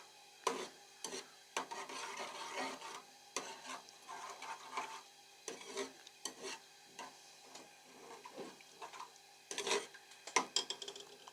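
Food frying in ghee for restaurant-style daal chana, with faint sizzling under repeated scraping and stirring strokes of a spoon against the pan at an irregular rhythm.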